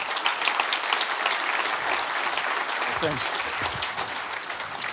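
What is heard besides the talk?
audience applause welcoming a guest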